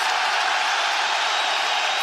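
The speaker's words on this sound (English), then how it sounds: "Have you ever heard a crowd like this?" An arena crowd at a mixed martial arts fight roars continuously late in the third round, a dense, distant wash of cheering and shouting with no pauses.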